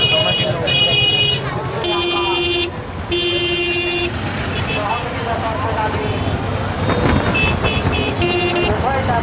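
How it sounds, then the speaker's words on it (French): Busy Bangladesh street din with auto-rickshaw horns tooting and beeping over and over, mixed with engines and crowd chatter, loud and continuous. "les klaxons ininterrompus des baby-taxis"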